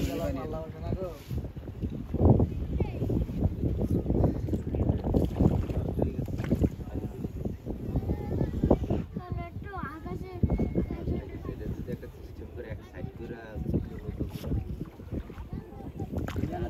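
A boat's engine and water noise with gusts of wind buffeting the microphone, while people talk loudly close by throughout.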